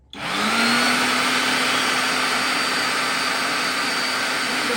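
An electric meat grinder mincing herring whirs up to speed and runs with a steady, loud motor drone and hum the whole time, with no one speaking.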